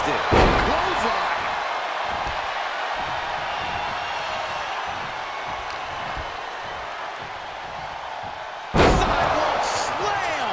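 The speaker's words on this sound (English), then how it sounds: "Sidewalk slam! Almost drove him through the ring." Two heavy sidewalk slam impacts in WWE 2K23, sharp thuds onto the ring mat near the start and again near the end, with a crowd murmuring in between.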